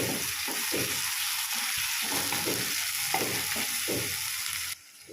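A spatula stirs a spice paste of Kashmiri dried red chili powder and a splash of water in a hot pan for an egg curry. A steady, close sizzle runs throughout, broken by repeated rhythmic scraping strokes, with no voices.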